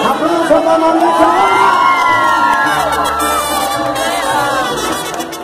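A crowd at a live mariachi performance cheers and whoops loudly, with shouting voices rising and falling over a steady roar of applause.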